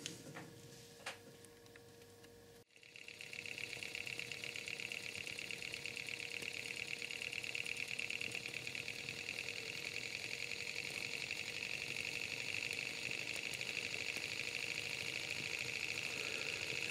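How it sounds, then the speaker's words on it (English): Wiggers Stiwi 1 model engine running on spiritus: after a brief quiet start with a few faint clicks, a sudden steady high-pitched mechanical whir sets in and holds evenly to the end, close and continuous. "I will now fill it up with spiritus and we will run the engine."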